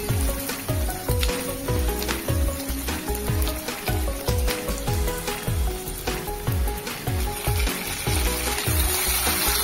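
Chopped onion, garlic cloves and ginger fry in a pan for potato curry, giving a dense, loud, crackling sizzle with rhythmic stirring scrapes throughout, close and without speech.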